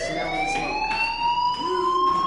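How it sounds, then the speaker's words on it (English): Wailing electronic fire alarm sounding through a school in the video game Life is Strange, a steady rising tone with bright harmonics that carries on continuously at moderate loudness. "Hey, do you hear that fire alarm?"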